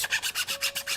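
Hand sanding of a 3D-printed part gives quick, regular rasping strokes, about eight in a second, close and loud with no talking.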